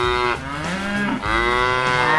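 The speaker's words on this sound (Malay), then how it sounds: "Ini pula anak lembu dan induknya." A cow and calf moo in long, loud, close lowing calls, one after another with a short break between, no talk.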